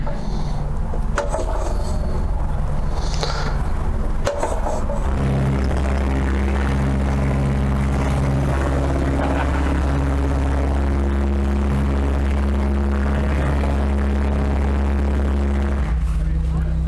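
A de Havilland Chipmunk DHC-1 propeller aircraft's engine drones steadily and loudly from close range, its low throb rising after a few seconds, while people talk over it.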